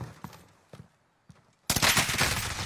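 Gunfire from an online shooter game: a few sparse single shots, then a sudden loud, sustained burst of rapid fire that continues to the end.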